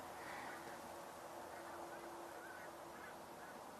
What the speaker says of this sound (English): And they sound like snow geese.